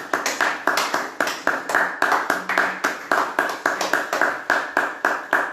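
A congregation at a midday prayer service claps in a steady, brisk rhythm, each sharp clap evenly spaced and close, with faint voices underneath.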